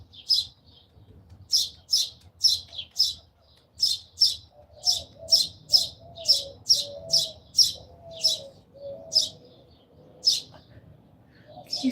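A small bird chirps repeatedly outdoors, a steady series of sharp high tweets close by, with soft cooing or low background sound partway through and no speech.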